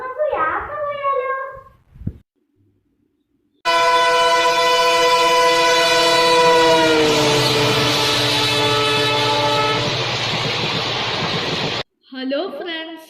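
The Hope Train, a passenger train, sounds a long, loud horn blast that holds for about eight seconds, with a voice speaking just before and after.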